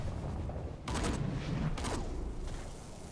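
Gunfire in an open-world action video game, two sharp bursts of shots cracking out about a second apart over a low, steady background.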